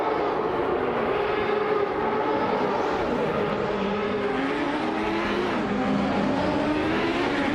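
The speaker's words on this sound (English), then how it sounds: "Bot A Better Bloke is in a Reynard 95 on, currently 7th" Reynard 95 race car in a racing video game, a continuous loud engine drone with shifting pitch as it holds speed, steady throughout with no talk.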